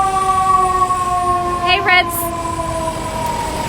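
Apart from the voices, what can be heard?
siren passing outside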